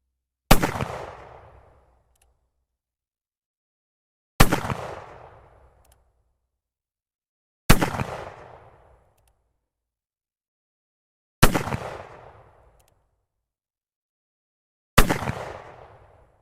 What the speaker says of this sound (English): Okay, so moving on to the 45 Colt. Again, just shooting down range.